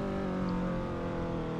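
A car reversing in the Roblox video game, a steady, droning engine hum with a sustained tonal whine, constant and fairly loud throughout.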